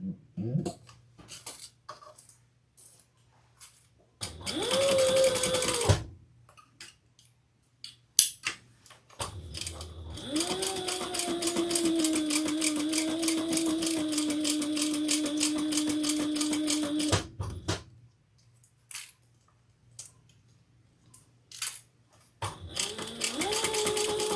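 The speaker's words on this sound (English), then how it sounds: "we're going to stitch all the way around on our seam allowance" A sewing machine runs steadily for several seconds, stitching around the seam allowance of a handbag, with shorter bursts before and after and quiet pauses between runs.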